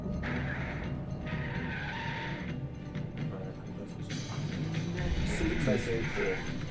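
A car skids with screeching tires in a TV car advert inside the Alan Wake video game, the skid sounding under continuous talk from people nearby.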